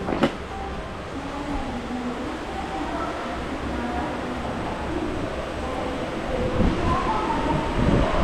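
An Indian passenger train pulls away, with a steady low rumble of wheels and carriages building gradually, heard from inside a car with faint bird calls and some background chatter.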